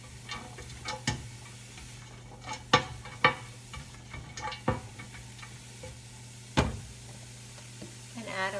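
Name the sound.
stirring turkey bone broth soup in a pot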